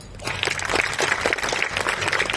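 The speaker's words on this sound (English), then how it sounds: "Big round of applause" Students and staff at a school promotion assembly clap together, a close, busy patter of many hands building quickly and holding steady.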